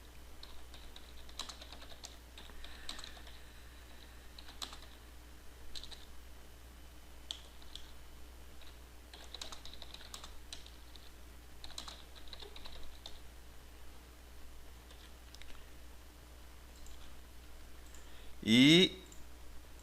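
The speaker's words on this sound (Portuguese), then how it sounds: "a gente vai digitar aqui uma mensagem" Light clicks of a computer keyboard come in scattered short runs and single taps, close and quiet, with a brief louder sound near the end.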